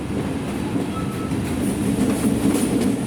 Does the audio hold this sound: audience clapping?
no